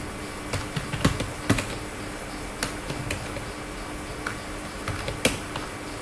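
Someone types on a computer keyboard in irregular bursts of close, sharp clicks over a steady background hiss, with no speech.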